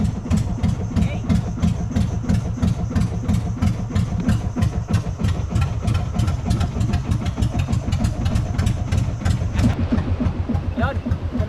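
A fishing boat's engine running at sea near a river mouth, a steady close pulsing chug with rhythmic low thumps that continues throughout and thins near the end, with voices talking over it.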